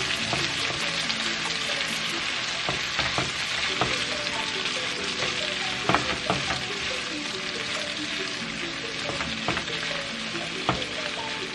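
Chicken with tomato paste sizzles steadily in a pot over a turned-down flame, with frequent scraping and clinking stirring strokes throughout, close and continuous.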